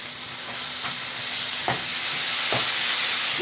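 Spices frying with yogurt in a pan, a loud hissing sizzle that builds slightly, punctuated by a few sharp spoon scrapes as the mixture is stirred, with no talking.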